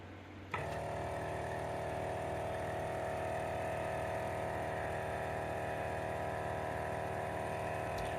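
Vacuum pump of a Forward FW 361+ hot plate separation machine switches on with a sharp start, then settles into a loud, steady, continuous mechanical hum and whir at close range, with no talk.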